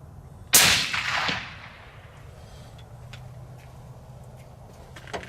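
A Remington 700 rifle chambered in .300 Win Mag fires one loud, sharp shot at an outdoor range, its blast rolling off into a decaying echo that fades over about a second, followed by quiet background.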